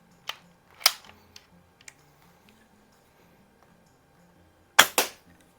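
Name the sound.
Benjamin 352 .22 CO2 rifle firing its first shot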